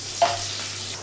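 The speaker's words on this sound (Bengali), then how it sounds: "2টো কাঁচা লঙ্কা একটু চিড়ে নিয়ে সেটা তেলের মধ্যে দিয়ে ফোড়নের সাথেই তোমার একটু ভাজা ভাজা হবে।" Slit green chillies fry with nigella seed tempering in hot oil, giving a soft steady sizzle with a brief sharp spit near the start.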